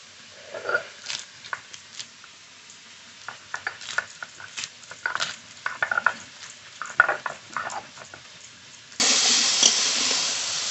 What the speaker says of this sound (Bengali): কাঁচকলাটা একটু ভাজা ভাজা করে নিয়েছি